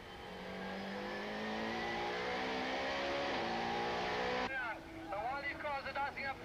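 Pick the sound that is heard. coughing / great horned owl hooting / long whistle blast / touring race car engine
touring race car engine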